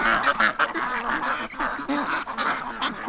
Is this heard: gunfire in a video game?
no